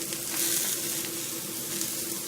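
Anchovies and breadcrumbs fry in a hot pan, giving a steady, close crackling sizzle with a low hum underneath throughout, no voices.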